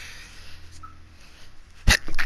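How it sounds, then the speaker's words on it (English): A single sharp sneeze bursts out close and loud near the end, cutting through quiet game background sound while playing Doom (2016), followed by a softer breathy exhale. "I had to sneeze there."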